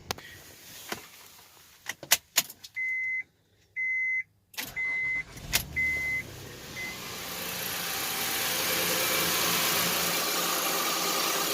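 A 2006 Honda Pilot cold-starts after an intake hose replacement: several clicks and warning beeps, then the engine catches and settles into a steady idle hum that stays even and moderately loud to the end.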